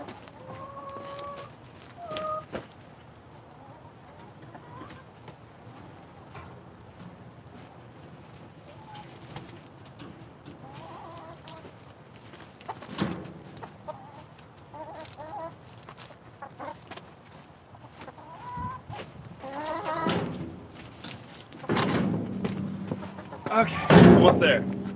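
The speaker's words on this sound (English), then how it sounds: "We got chickens trying to escape right now." Backyard chickens cluck and squawk around a compost area, with scattered calls and busy fowl chatter near the microphone that grows louder toward the end, while someone speaks intermittently.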